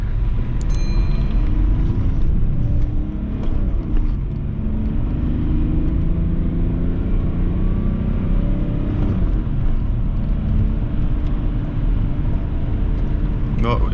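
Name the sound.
BMW E34 car accelerating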